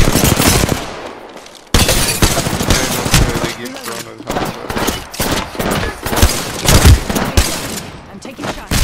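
Dense, overlapping gunfire in a video game crackles continuously in loud volleys and bursts, with a voice cutting in between shots.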